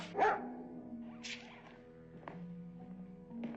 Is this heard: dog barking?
yes